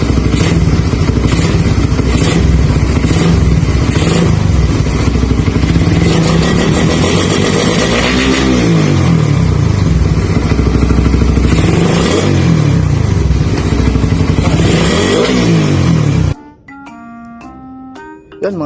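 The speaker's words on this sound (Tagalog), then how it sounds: "tapos na curve tuning yung ating Raider 150 dito kay Sir Poy Moto" A Suzuki Raider 150 motorcycle engine revs repeatedly after tuning, loud and close, with a rough idle rising into sharp throttle blips and falling back, then cutting off abruptly into a brief electronic chime near the end.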